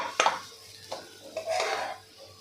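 A spoon stirs spiced lentil mixture for tikhat vatli dal in a pan, giving a few scattered scrapes and clinks against the metal over a faint low hum, with quiet gaps between strokes.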